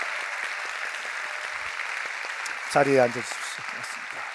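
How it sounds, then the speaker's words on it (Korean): Steady applause from a church congregation at a Sunday worship service, honouring the pastor's parents-in-law, forms a sustained wash of clapping while someone speaks briefly over it. "저희가 박수하겠습니다"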